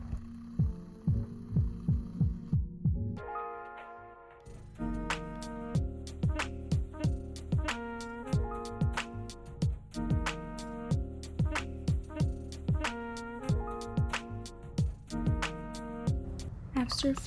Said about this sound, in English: And then you want to use an electric frother to froth it.